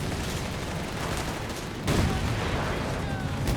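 A .50 cal machine gun firing in the strategy game Company of Heroes 3, a dense rattle of gunfire with a sharper burst midway, under commentary talk.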